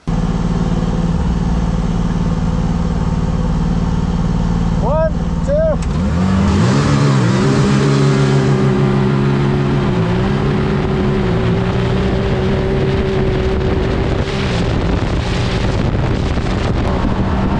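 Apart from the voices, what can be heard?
car accelerating on snow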